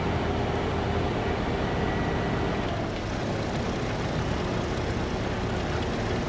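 A plane droning over a farm field in Farming Simulator 15, a steady, dense engine roar that stays loud and unchanging from start to finish.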